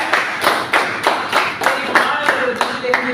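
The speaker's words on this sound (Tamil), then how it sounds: "எல்லாருக்குமே வந்து ஒரு பலத்தை கைத்தட்டி கொடுத்தாங்க" A classroom of students claps hands in a quick, loud rhythmic burst of about ten sharp claps, with voices faintly mixed in.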